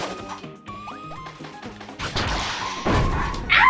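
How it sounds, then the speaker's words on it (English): Bombs dropping on the player in Kirby's Return to Dream Land Deluxe land as a series of heavy thuds and crashes, growing louder and denser toward the end over light game music. "He dropped bombs on me!"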